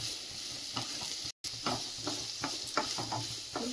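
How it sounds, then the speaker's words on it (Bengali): Mixed vegetables with capsicum lightly frying in a pan for pasta, a soft steady sizzle under intermittent stirring scrapes and clicks, close and moderate, without speech. "সবজিটা তো হালকা করে যে ভেজে নিচ্ছি"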